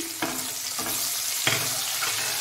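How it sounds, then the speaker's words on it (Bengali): Chopped onion frying in oil with fenugreek seeds, a continuous close sizzle broken by a few stirring scrapes, no talk. "এটাকে এবার আমি লাল করে ভেজে নেব"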